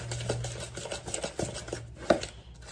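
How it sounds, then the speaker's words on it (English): Salisbury steak being stirred in a pan, giving soft scraping and clinking of a utensil against the cookware, a few quiet irregular strokes and one sharper knock near the end. "Give this a stir."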